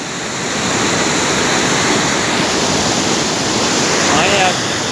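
Canal water rushing past a hillside bank, a loud broad continuous roar close by, mixed with wind buffeting the microphone, and a faint voice briefly heard near the end.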